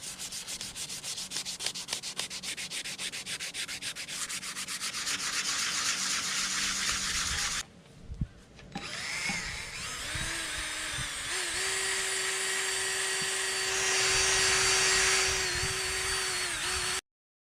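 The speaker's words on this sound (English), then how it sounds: "we'll take a little sandpaper and we'll clean this up a little here" Sandpaper rubs by hand against a Kubota Land Pride PTO slip clutch part, a steady continuous scraping with a brief pause midway, then resuming with a faint steady whine beneath, close up with no talk.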